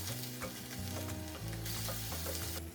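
A spoon stirs a pasta sauce of tomatoes and tomato paste in a pan. The sauce sizzles and bubbles continuously, with close scraping strokes and a low hum underneath.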